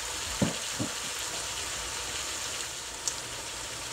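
Salmon fries in a pan with a steady, fairly quiet hiss, a few soft knocks and clicks early on and one sharp tick near the end, with no one speaking.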